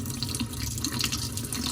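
Water pours in a steady, faint stream from a LARQ water pitcher for under two seconds, with no talk.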